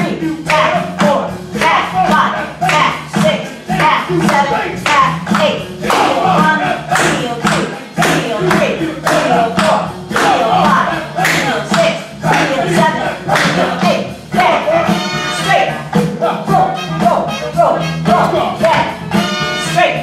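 Hand claps in a group dance routine to a song, sharp rhythmic claps and stomps repeating steadily throughout, loud and close, with music driving underneath.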